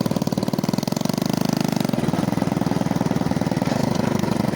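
A vintage 1980 Honda Mini Trail 70 runs at a steady, rapid putter while being ridden. The small engine's note shifts slightly partway through and stays loud and close throughout.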